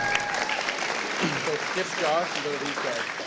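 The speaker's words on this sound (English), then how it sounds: "Let's give them a round of applause" Students in a high school spoken word competition audience applaud after the judges' scores, a steady wash of clapping mixed with cheering voices and an announcer talking over it.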